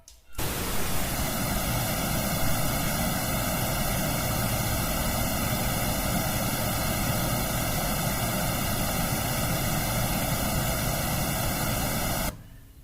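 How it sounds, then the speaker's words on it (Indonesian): Steady broadband pink noise test signal played from a mixer for room response measurement, a continuous loud hiss lasting about twelve seconds, then cut off abruptly. "tekan tombol pink noise untuk mulai merekam, untuk memulai mengcapture frekuensi responnya."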